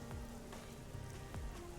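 Steady rain falling in the video game Rain Code, a close, even wash of drops with a few faint low swooshes, no talking.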